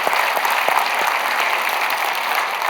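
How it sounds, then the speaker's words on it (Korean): A church congregation claps together at a New Year blessing service, a dense, steady round of applause from a large crowd that carries on evenly throughout, with no speech over it. "이렇게 자발적인 박수 참 오랜만에 나온 것 같은데"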